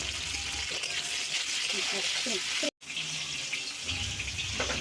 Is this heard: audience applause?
no